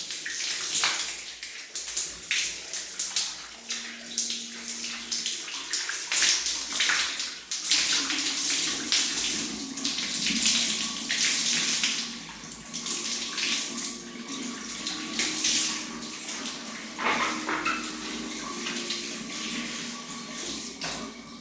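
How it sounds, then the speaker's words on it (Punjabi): Water runs from a bathroom tap, splashing and gushing unevenly as freshly cleaned taps are rinsed, with handling noises and occasional clunks of hands and fittings. "ਹੁਣ ਆਪਾਂ ਇੱਥੇ ਪਾਣੀ ਲੈ ਲਾਂਗੇ ਇਹ ਲੈ ਕੇ ਨੂੰ ਆਪਾਂ ਚੰਗੀ ਤਰ੍ਹਾਂ ਧੋ ਲਾਂਗੇ"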